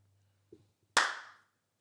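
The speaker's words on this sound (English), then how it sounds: "Oh, clapboard." One sharp wooden clap of a film clapperboard rings out in a quiet room, preceded by a faint tap and a low hum, then decays quickly.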